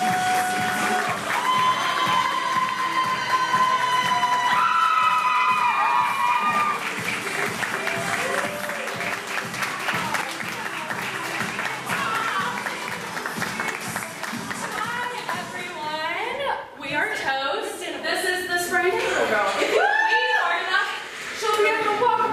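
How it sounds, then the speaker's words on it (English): A live audience claps, cheers and screams in a loud, sustained wave for a host's guest, with shouts and whoops rising over the applause and a fresh burst of screaming near the end. "Start clapping and screaming for toast."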